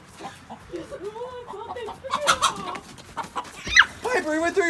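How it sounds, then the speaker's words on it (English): Chickens being relocated to a new coop cluck and squawk near the microphone in uneven bursts, with a sharp squawk near the end, while people talk and laugh among them. "Look at all the chickens."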